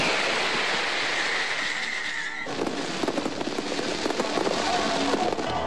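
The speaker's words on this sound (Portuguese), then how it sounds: "Os fogos que iluminam o Rio Loire abrem a Copa em Nantes" Fireworks bursting over the Loire River in Nantes at the opening of the 1998 World Cup, a dense continuous crackle and rumble with sharper pops growing busier midway, like a distant crowd-filled display.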